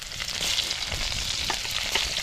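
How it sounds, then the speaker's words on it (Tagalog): Sautéing in a hot pan outdoors on a farm for adobong nokma, a loud, continuous crackling sizzle with irregular spitting pops close by. "Maggisa muna ako ng pan."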